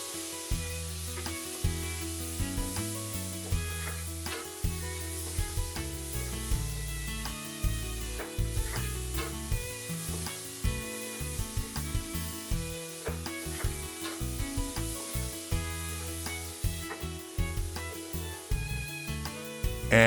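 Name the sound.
diced onion frying in bacon fat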